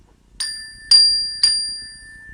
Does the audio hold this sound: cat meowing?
no